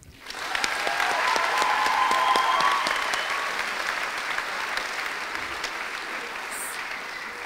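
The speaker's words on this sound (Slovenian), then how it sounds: "Prosim en aplavz." Sustained clapping fills a hall at a primary school graduation ceremony, rising quickly to a steady, fairly loud applause that carries on evenly before easing slightly toward the close.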